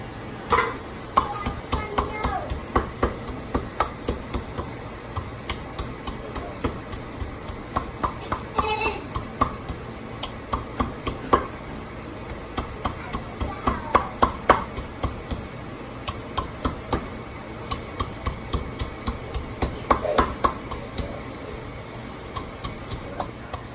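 Garlic pressed through a hand garlic crusher in a home kitchen while cooking beans, a run of close, sharp clicking and squeezing knocks in uneven bursts, with people talking over it.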